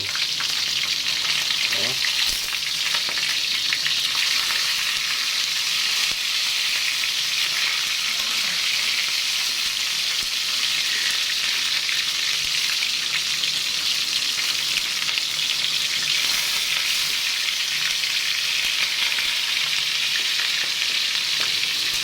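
Salmon head frying in an oil-filled pan, a loud, steady, close sizzle that runs unbroken throughout, with faint kitchen noises now and then.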